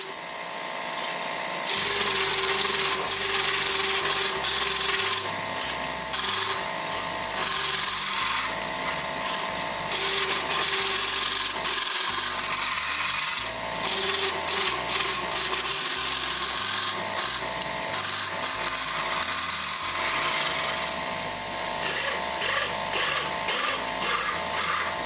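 Wooden pegs are turned down on a lathe to fit a 1.5 to 1.25 inch hole for a heavy bobsled build. Steady rasping and cutting of wood comes over a motor hum, with pauses and repeated bursts.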